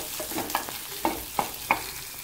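Garlic frying in a pan for a Kerala-style prawn theeyal, with a low sizzle under a few sharp spatula taps and scrapes spaced about half a second apart, close by and with no talk.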